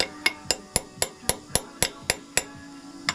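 Sharp metallic taps on a cotter pin, driving it down through a castle nut on the front brake of a KLR650 motorcycle with a Typhoon Tusk oversized rotor, about a dozen evenly spaced close hits.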